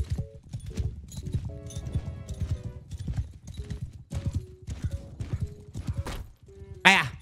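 Hooves clip-clop steadily from a horse in Mount & Blade II, a repeated rhythmic beat of fairly loud footfalls under someone talking, with music-like tones and a brief sharp whinny near the end.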